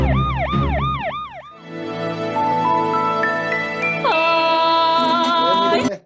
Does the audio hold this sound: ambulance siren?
yes